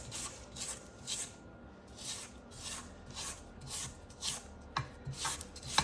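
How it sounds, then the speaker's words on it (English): A spatula scrapes down the sides of a bowl of German chocolate cake batter: about a dozen soft, rhythmic rasping strokes, close and fairly quiet, with no talking. "Scrape the sides down real good."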